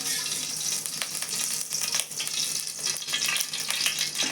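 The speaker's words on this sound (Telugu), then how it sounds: "నేను ఇప్పుడు ఆయిల్ వేస్తున్నాను." Oil sizzles in a pan while drumstick leaf dal is being cooked, a steady frying hiss with small crackles and pops, close and fairly quiet, continuing throughout with no talk.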